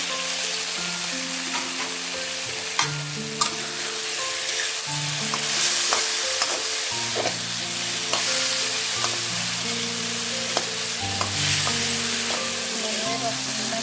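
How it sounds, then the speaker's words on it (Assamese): Steady sizzling of small broken potato pieces frying in a pan for a paneer curry, with occasional scraping and stirring clicks throughout; no one speaks. "আলুখিনি দি আৰু এবাৰ ভাজি ল'ম।"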